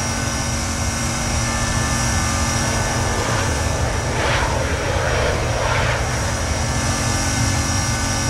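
Engines of a Boeing 777-300F freighter at takeoff out of Hong Kong in X-Plane roar loud and continuous, a broad steady jet rumble with a swelling whoosh partway through and no talk.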